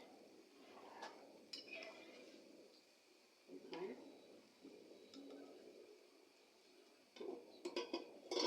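Halim stirred in a cooking pot, a spoon scraping and clinking against the metal in intermittent bursts, fairly quiet and close, with a person talking in between.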